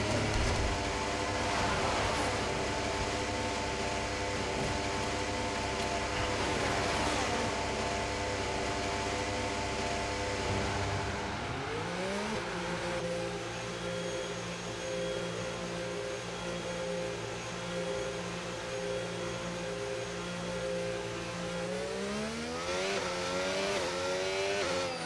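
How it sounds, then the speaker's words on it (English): Formula 1 race car engines hum steadily in F1 25 on the Austrian circuit, a layered tonal drone that drops and settles midway, then climbs again as revs rise, loud and continuous with no talk. "Okay, engines fired up, we're set."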